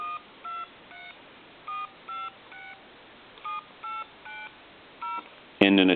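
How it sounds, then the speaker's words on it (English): A string of short keypad tones from a novelty hot dog telephone, model HD-8003, beeps one after another at an even pace, clear and isolated, ending with a sudden louder burst. "I'm going to walk through the numbers again."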